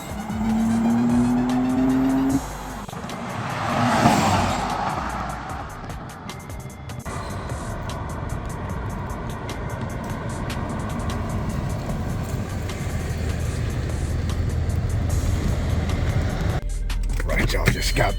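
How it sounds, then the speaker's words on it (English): A stage 3 Audi Allroad accelerates hard through a full pull, its engine droning loud and steady with a rising whine and wind roar, after a brief rumble at the start. "just wanted to get out here and do a quick pull"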